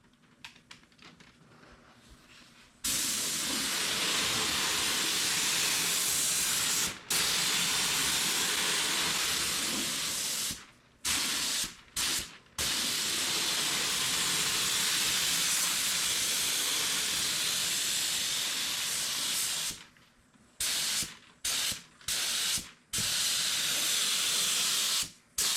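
A spray gun lays primer onto bare metal repair patches on a 1996 Z71 OBS pickup's cab corner and rocker panel: loud, steady hissing blasts, some long and some short, separated by brief silent pauses.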